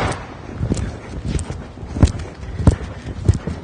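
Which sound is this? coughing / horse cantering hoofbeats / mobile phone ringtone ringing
horse cantering hoofbeats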